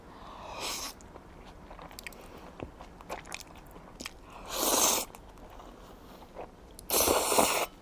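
Nongshim Mala Chapagetti spicy black-bean noodles eaten close up, with a few loud bursts of slurping and chewing separated by quieter mouth sounds and small clicks.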